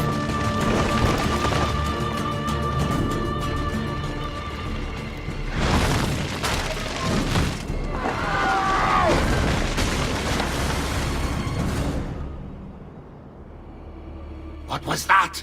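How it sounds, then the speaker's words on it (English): In an Assassin's Creed 2 video game cutscene, firecracker-like explosions go off as a few booming bursts and crashes amid mechanical clatter, mixed under speaking voices, then quiet down before a final short burst. "Probably just kids with firecrackers."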